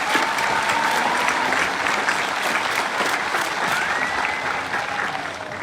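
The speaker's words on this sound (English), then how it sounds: "Let's give them a round of applause." A large audience applauds graduating students at a 2022 high school graduation ceremony, giving a steady, dense wash of clapping that holds at full strength for several seconds before easing slightly near the end.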